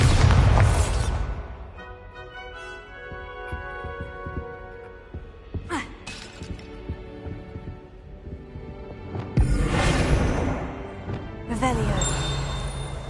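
Bombarda blasting spells in the video game Hogwarts Legacy hit as several loud, broadband bursts at intervals, with sustained tonal game sounds and quieter stretches in between.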